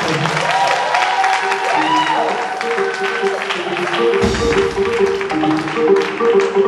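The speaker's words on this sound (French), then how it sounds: "On applaudit très fort pour lui, s'il vous plaît." Audience at a BONANA 2023 event in Pointe-Noire applauds, with dense clapping and crowd noise under loud music and a voice throughout.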